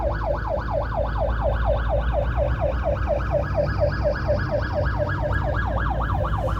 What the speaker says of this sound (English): There's an ambulance coming now. It's a live recording. Can you hear it?